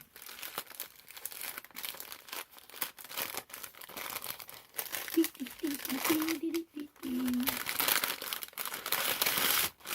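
A paper bag holding a purchase from a wool festival is opened and crinkled, giving a long run of close, dry rustling and crackling; a brief quiet voice cuts in midway.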